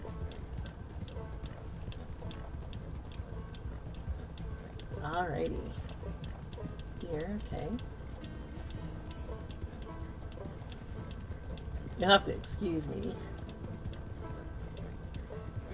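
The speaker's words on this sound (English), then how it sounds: "I'm trying to drive a horse." A horse's hooves clip-clop steadily in Red Dead Redemption 2, a fast, even rhythm running the whole time beneath someone talking.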